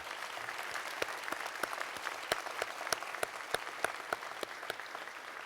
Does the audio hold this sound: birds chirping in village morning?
no